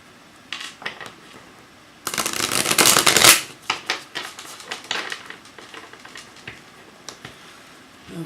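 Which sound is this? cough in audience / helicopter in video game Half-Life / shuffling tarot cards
shuffling tarot cards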